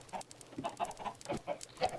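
Minecraft chickens cluck in a short run of separate, fairly close calls inside a game, with no one talking.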